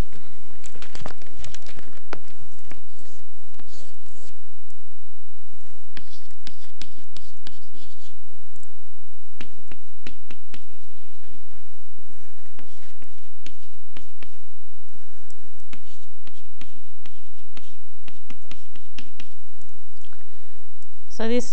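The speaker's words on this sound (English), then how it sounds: "Draw the triangle." A marker or chalk scratches and taps on a board while a triangle is drawn during a lecture, making intermittent close strokes and clicks over a long stretch of quiet room tone.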